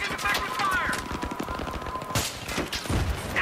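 Rapid gunfire from the Battlefield 3 video game, with bursts of automatic shots crackling over a busy mix of in-game noise while a player talks over it.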